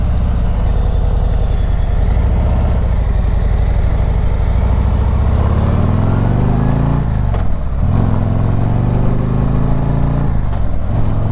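2021 Harley-Davidson Street Glide CVO motorcycle turning around in a church parking lot, its engine rumbling steadily and close, with a rising rev partway through and no talk.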